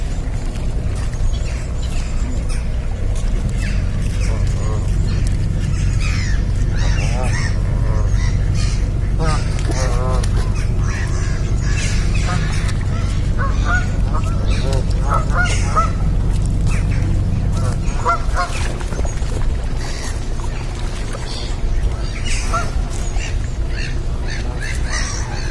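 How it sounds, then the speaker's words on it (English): Canada geese honking loudly and repeatedly close by at Windermere, with people talking over the calls and a low rumble underneath. "I've never been this close to Canada geese."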